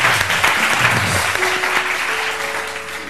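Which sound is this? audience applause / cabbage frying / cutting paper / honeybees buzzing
audience applause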